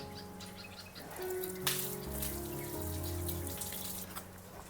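Water runs steadily from a tap into a sink as washed potatoes are drained, a continuous splashing flow with a brief louder splash partway through.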